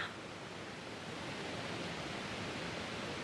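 Erawan Falls in Thailand gives a steady, dense roar of falling water that stays constant and close throughout, with no voices.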